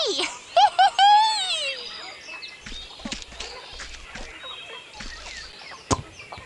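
Chickens clucking in the 1996 PC game Magic Tales: Liam Finds a Story: a few quick, close clucks and a rising squawk at the start, then scattered faint clicks and pecks.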